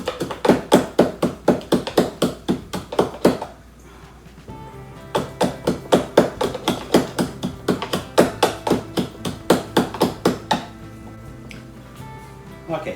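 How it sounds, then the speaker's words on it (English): Black pepper ground for spaghetti alla carbonara: a loud, rapid, even run of knocking strikes, a brief pause, then another long steady run of strikes. "I have the black pepper here. Okay, so I'm going to grind"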